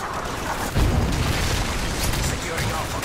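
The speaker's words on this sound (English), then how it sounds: "Predator missile inbound." A Predator missile explosion in a video game lands as a loud, deep boom, swelling in under ongoing battle noise and rumbling on for a couple of seconds.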